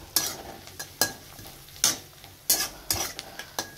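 Poha with potato, peanuts and onion being stirred in a pan, a spoon scraping and clinking in repeated sharp strokes over a soft sizzle, no voices.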